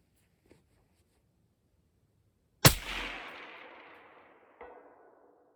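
A rifle fires a single sharp, loud crack at targets out to 400 yards, followed by a long echoing decay down a valley and a faint distant impact or echo a couple of seconds later.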